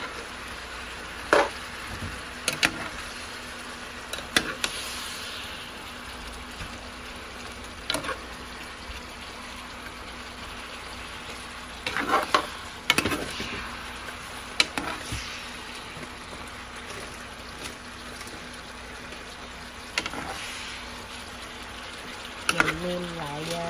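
Potatoes added to pork braising in a pot, with a steady low simmer and sizzle, scattered clunks and scrapes of stirring, and a person talking now and then.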